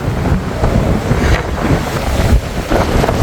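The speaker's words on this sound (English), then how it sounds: "The wind is strong." Strong gusting wind roars and buffets the microphone on the forward deck of a cruise ship at sea, with a constant rushing wash and no voices.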